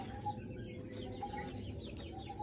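Soft, intermittent clucking from a few chickens, fairly quiet and close, over a low background hum.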